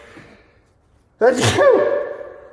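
A single loud, sharp sneeze bursts out after a quiet moment, followed by a ringing, echoing tail.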